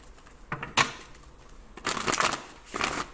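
A Moonology oracle card deck is shuffled in a few short, crisp riffling bursts with brief pauses between, close and clear with no talking.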